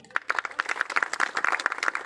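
Audience clapping at a progressive and organic farmers' gathering in Dakhora, Rewari: a dense, steady patter of many hands with no voices, lively and fairly close for about two seconds.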